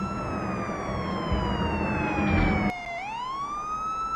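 A loud, piercing whistle sounds continuously, its pitch sliding slowly downward and then rising again, like a kettle at full boil.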